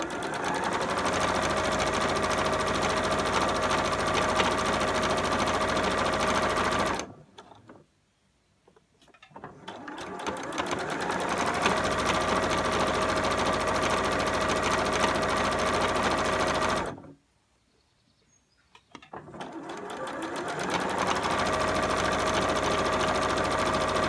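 A domestic sewing machine stitching a straight seam on a scrubs bag, a close, steady mechanical whirr running in long continuous bursts with two short pauses between them.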